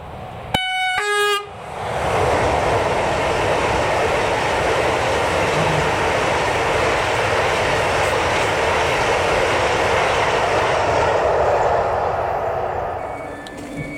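A passenger train blasts its horn in a short sharp toot, then accelerates with a loud, steady rumble and rising rail noise that fills the scene before easing off near the end.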